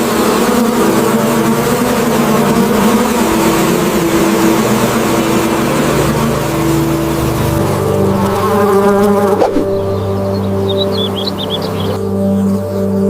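A honey bee swarm's steady, dense buzzing drones on throughout, loud and close, with a low engine-like hum underneath, as the colony enters a gap beneath roof tiles.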